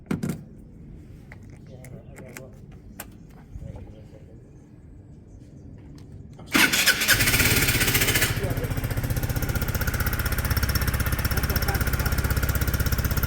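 Peugeot Satelis 125 scooter starting for its first test run after being rebuilt: quiet handling noises and faint voices, then at about six seconds the engine catches and settles into a loud, steady running drone up close.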